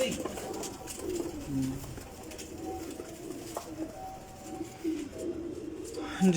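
Salara teddy pigeons coo softly in repeated low, throaty phrases, fairly close but quiet, with faint background noise.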